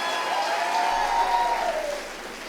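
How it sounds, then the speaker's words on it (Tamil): Audience applause at a college annual day function fills the hall as steady broadband clatter, with a sustained whistling tone gliding through the middle before the clapping eases slightly toward the end. "நல்ல கைத்தட்டல் தாங்க"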